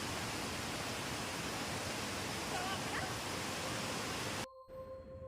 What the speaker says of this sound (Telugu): ఇక్కడ నుంచి ఎక్కువ సౌండ్ వస్తుంది వాటర్ ఫ్లోది